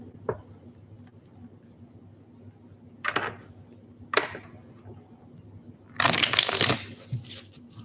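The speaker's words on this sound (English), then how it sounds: "Let's shuffle again here." A few short riffling bursts of cards, then a longer, louder shuffle near the end, close by in a quiet room.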